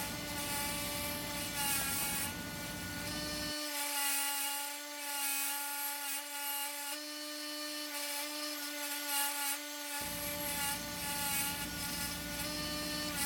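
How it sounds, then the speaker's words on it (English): A spinning wire wheel scrubs pitted rust off a steel axe head in an axe restoration, a continuous harsh buzzing grind that stays loud and close, its rasping dropping briefly partway through as contact changes. "This wire wheel gets into those pits and really cleans the rust out of there"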